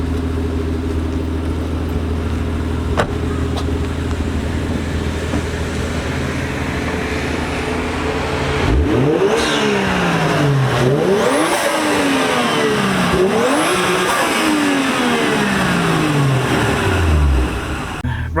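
A white Toyota Chaser car idles with a steady low hum, then its engine revs hard as it drives off, rising and falling through several loud sweeping climbs close by.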